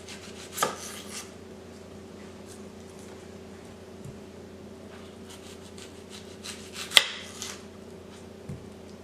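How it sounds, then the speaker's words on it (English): A knife cutting both ends off an onion on a board: two distinct sharp chops several seconds apart, with fainter knocks between them, close and quiet against a low steady hum. "This dish calls for sliced onions. Cut off both ends."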